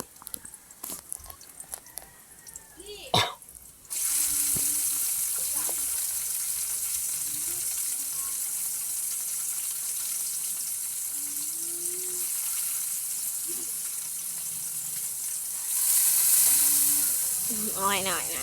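Hot oil sizzles and spatters loudly as tomatoes go into the frying pan, a sudden steady crackling hiss after a few seconds of clatter, continuing with a brief louder surge near the end and a voice speaking over it.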